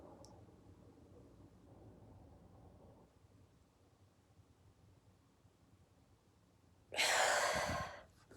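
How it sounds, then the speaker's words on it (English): A single deep, forceful breath is drawn in close to the microphone, a brief rushing inhale after several seconds of near silence. "So I'm going to take my deep breath."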